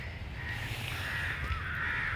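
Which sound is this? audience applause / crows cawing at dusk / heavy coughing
crows cawing at dusk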